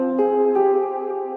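Sampled keys instrument from Kontakt for a liquid drum and bass track, a short phrase of a few struck tonal notes ringing on, heard alone.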